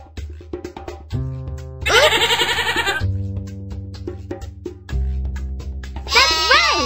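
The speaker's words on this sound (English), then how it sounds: "It's a sheep!" Sheep bleat loudly and close in several wavering calls, with a farm animal sound sequence around them and a bright cartoon-like quality.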